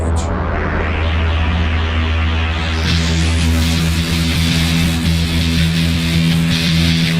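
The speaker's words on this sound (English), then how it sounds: "That's my Moog DFM in the background." Moog DFM synthesizer droning in the background, steady sustained tones and a dense layered hum that continue without a break, fairly loud and with no voices.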